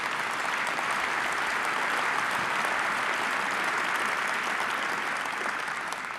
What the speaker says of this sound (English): we should give them a huge round of applause